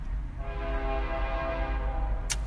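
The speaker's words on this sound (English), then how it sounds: "Sorry, there's a train going by." A passing train sounds its horn in a long, steady blast over a deep rumble of rolling wheels, moderately distant, with no talk.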